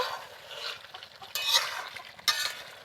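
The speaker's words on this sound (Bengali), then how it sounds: "আবার একটু নেড়ে চেড়ে আবার ঢাকা দিয়ে দেব" Chicken curry with fried potatoes stirred in a pot, a steady close scraping and sizzling with two sharper clanks of the utensil against the pot, no voices.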